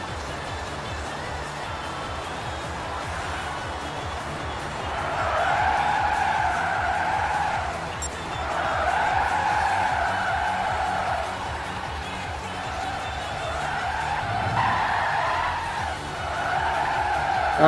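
A Nissan Leaf runs around a track in Gran Turismo 5, its electric drive humming as tires squeal repeatedly through corners in long, wavering bursts, steady and fairly close throughout.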